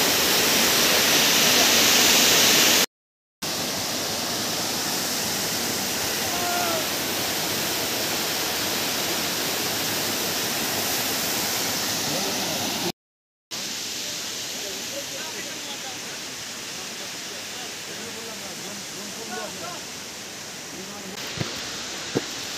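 Hundru Falls in Jharkhand roars as a steady broadband rush of falling water, loud and continuous, broken by two brief dropouts.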